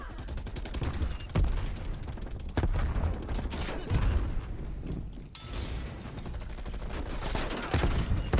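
Repeated heavy explosions and gunfire in Black Ops Cold War multiplayer, a loud dense barrage of booming blasts from a War Machine grenade launcher and other weapons in quick succession with no pause.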